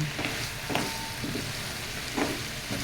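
Chicken sautéing in a pan, a steady close sizzle with a few soft stirring scrapes over a short stretch, no talk.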